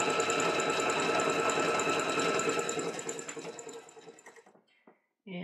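A sewing machine stitches cloth for a leather mask, running in a fast, steady close whir for about four seconds before slowing and stopping, followed by a brief quiet and a faint knock.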